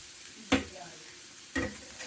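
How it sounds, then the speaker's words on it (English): Shrimp sauté in a hot pan, a soft steady sizzle broken by two brief scraping stirs about a second apart, close and fairly quiet. "We've got our shrimp sauteing right here."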